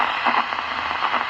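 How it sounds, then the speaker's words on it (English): FM radio receiver at 20 dB quieting, a steady hiss of static with faint, popcorn-like crackles scattered through it, quiet and alone. "20 dB quieting sounds about like popcorn popping"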